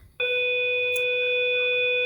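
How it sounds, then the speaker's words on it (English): A school bell rings in a classroom, a loud, steady electronic tone that starts abruptly and holds unbroken to the end. "All right, bell's ringing."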